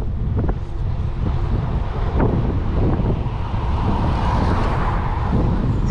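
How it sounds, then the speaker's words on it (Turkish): Strong wind roars steadily across the microphone beside the river in Amasya, loud and continuous, with low rumbling gusts and no voices. "Rüzgar bir hayli şiddetli."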